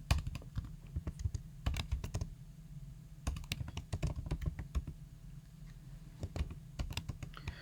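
Quick, crisp keystrokes tap out code on a computer keyboard, a steady close run of clicks with brief pauses and no talk.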